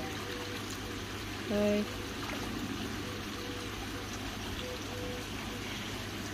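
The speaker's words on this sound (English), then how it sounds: "Excuse the noise. That air pump does" Electric air pump running steadily for a wildlife pond and an IBC tank, a constant low hum with faint watery trickle beneath, close by, with a brief spoken word.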